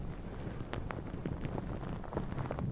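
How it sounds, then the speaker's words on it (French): Steady patter of rain drumming on taut tent canvas, with scattered sharper drops standing out against a constant wash of noise. "Il pleut sur ta toile de tente."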